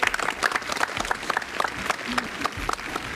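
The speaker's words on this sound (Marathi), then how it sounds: "वाजवा की टाळ्या, काय हरकत नाही" A studio audience at a Marathi cooking TV show claps steadily in dense, continuous applause, close and loud, with a bit of crowd murmur.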